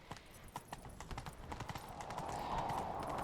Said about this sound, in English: Grab a horse, we'll chase him down.